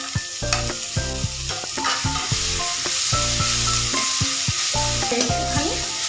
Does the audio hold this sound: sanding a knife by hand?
no